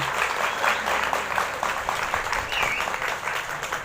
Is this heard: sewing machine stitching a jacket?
no